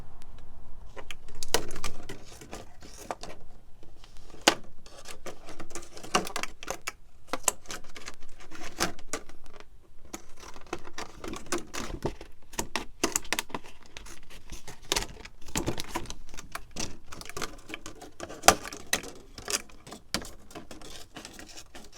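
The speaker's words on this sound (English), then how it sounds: "I designate a pair of scissors to cut through anything that's rough or sticky" A pair of scissors cuts through rough, sticky packaging, producing a busy, irregular run of sharp snips, crinkles and scrapes, close and fairly quiet, with short pauses between bursts.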